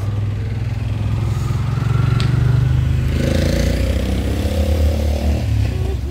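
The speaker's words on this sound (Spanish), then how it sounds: "Cuidado, la moto." A motorcycle on a town street in Atiquizaya: a loud, steady engine drone that shifts pitch as it passes close by, over constant street noise.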